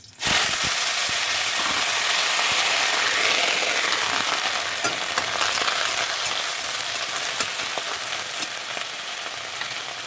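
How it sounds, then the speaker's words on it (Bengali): Potatoes and flat beans hit a hot wok with dried chilli and white cumin, bursting into a loud, constant sizzle with scattered pops and crackles that carries on steadily without any talking. "কড়াই গরম হয়ে গেছে, দিয়ে দিচ্ছি একটু শুকনো লঙ্কা, একটু জিরে ফোড়ন, সাদা জিরে, দিয়ে দিচ্ছি আলু আর শিম"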